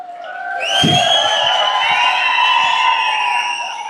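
A crowd at a gathering cheers loudly, with sustained whoops and shouts layered over some scattered claps, rising quickly and holding for several seconds close by.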